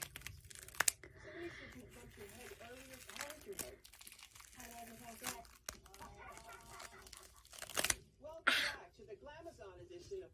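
Special effects prosthetic makeup peeled off skin makes quiet, close crinkling and tearing sounds in uneven bursts, mixed with faint vocal noises and a few louder rips near the end.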